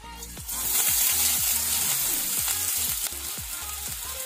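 Onions drop into hot coconut oil in a pan and fry with a strong, continuous sizzle, broken by repeated rhythmic clinks and scrapes from stirring, close and loud.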